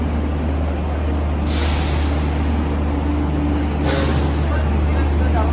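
A train arriving at a station gives two loud hissing bursts of air brakes over a steady low rumble, with faint voices in the background.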